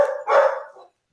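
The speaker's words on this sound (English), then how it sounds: "That's my dog." A pet dog barks indoors, two quick loud woofs close by, then silence.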